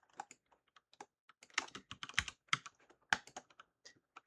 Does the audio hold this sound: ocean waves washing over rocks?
no